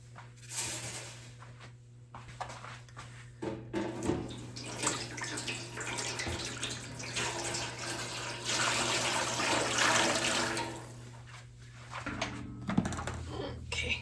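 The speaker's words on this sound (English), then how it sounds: "I'm going to be adding 8 cups of tap water" Tap water running into a dye pan, a steady rushing splash with pauses and shifts in flow, fairly faint and close, with some background handling noises.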